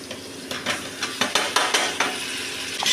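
Tomatoes are stirred into frying onions in a pan, with a series of sharp scraping and clinking strokes of the spoon over a low sizzle, close and fairly loud, no talking.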